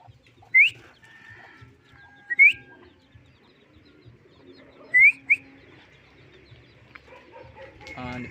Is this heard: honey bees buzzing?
no